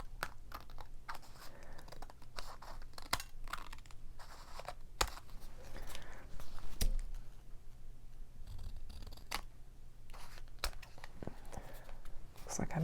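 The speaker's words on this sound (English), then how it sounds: "turn it over and snip away the extras on here so they'll have a good clean edge" Scissors trimming the excess paper from the edges of a floral ephemera craft card: scattered faint, close snips and clicks over soft handling rustle, with no clear talk.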